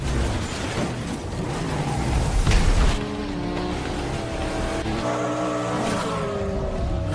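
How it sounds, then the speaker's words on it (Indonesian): A motorcycle in the 2004 action film Torque speeds off at full throttle, a loud, roaring engine surge with tire noise that swells and then holds as a sustained high-speed drone mixed with film sound effects. "Saat dibuka, Port langsung tancap gas"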